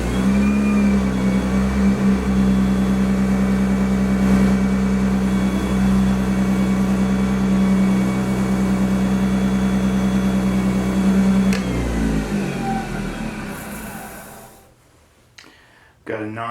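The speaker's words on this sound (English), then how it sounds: "Now let's buff it to a shine. Crank it all the way up." Power buffer run at full speed, polishing a wooden barrel to a shine, a loud steady motor drone holding for about eleven seconds before winding down and fading into near quiet.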